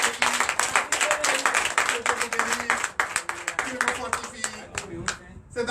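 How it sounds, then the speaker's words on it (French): A church congregation claps and cheers during a Sunday worship service, with dense, rhythmic applause close by and bursts of voices rising over it. "Donnez encore de vive acclamation."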